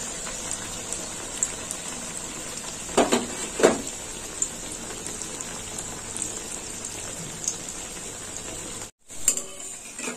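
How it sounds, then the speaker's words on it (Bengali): Continuous hiss of oil bubbling as bitter gourd slices deep-fry, with a few clattering knocks from a utensil in the pan. "এইভাবে সবগুলো ভেজে নেব।"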